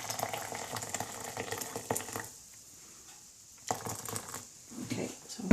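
Water pours into a washing-up bowl in uneven splashing bursts with a short pause between them, heard close and fairly quiet while starching a WW2-era nurse's veil.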